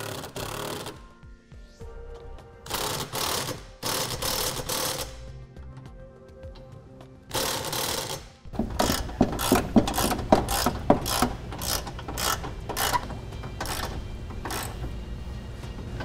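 A ratchet tightens the bolts of a Curt trailer hitch receiver on a 2013 BMW 5 Series, first in a few separate bursts of clicking and then in quick repeated strokes, loud and close.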